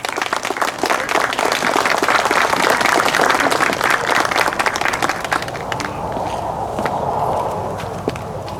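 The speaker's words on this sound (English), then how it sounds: "Can everybody please give a round of applause to Dan Carter" An outdoor audience gives a round of applause for a guest speaker at a welcome home event, dense clapping that swells, then thins and fades into scattered claps and shuffling footsteps.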